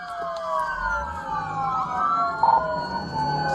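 Police car sirens wail during a stolen-car chase on a road, several overlapping sweeping tones at moderate distance over a steady rumble of traffic.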